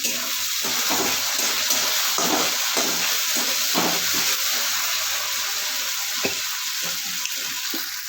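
Cashew nut paste hits a hot pan and sizzles loudly and steadily, a dense close frying hiss with a few faint clinks underneath, no voices.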